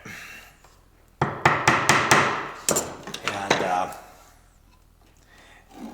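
Small 1/8 inch dowel pins are tapped into a template on a Fender-style guitar neck, a quick run of sharp, close taps and knocks in two clusters between quieter stretches.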